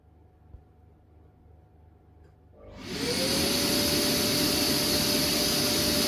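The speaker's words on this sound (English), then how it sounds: "I have a socket and vacuum cleaner connected into a socket" A vacuum cleaner plugged into a garage socket switches on after a quiet stretch. Its motor whine rises quickly, then settles into a loud, steady roar close by.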